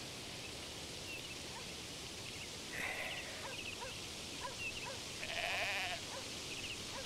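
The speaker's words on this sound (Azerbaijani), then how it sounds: "Bu qoyunlar hamısı eyni cürdür." Sheep bleat faintly at a distance over a steady outdoor background hiss, two or three short calls spaced a few seconds apart.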